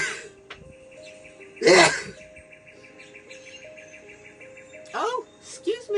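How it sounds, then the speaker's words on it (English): A single loud sneeze bursts out near the middle of a quiet indoor moment. Soft sniffs and throat sounds follow, and a faint hum and a few short vocal noises come before it and after it. "Excuse me, I'm going to sneeze."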